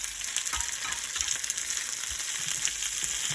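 Red snapper frying in a pan on a stove top: a steady, dense sizzle of hot oil, close and continuous with small crackles, and no talking.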